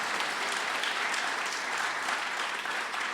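A crowd at an all-candidates debate hosted by a chamber of commerce applauds, a steady, fairly distant wash of many hands clapping, even and sustained without any talk over it.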